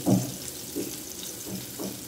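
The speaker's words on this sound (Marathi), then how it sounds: "तर अशा पद्धतीत आता सर्व फ्राय करून घेते मस्त अशी" Pomfret fish frying in a pan sputters and sizzles softly, with a steady hiss broken by a few gentle pops and bubbling bursts, no voices.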